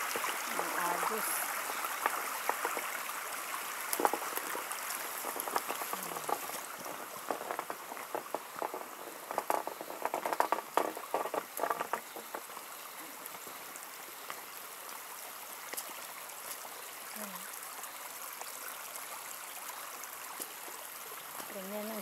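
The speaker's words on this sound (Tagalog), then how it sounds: "Ganyan ang sapa dito." A shallow rocky creek flows over stones, a steady close trickling and babbling of water that runs throughout with occasional faint voices in the background.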